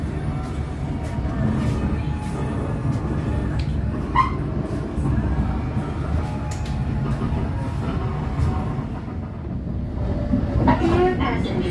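Brantas economy class train running between Pekalongan and Semarang Tawang, a continuous low rumble and rattle of the carriage heard from inside, with faint voices and a brief high squeal near the end.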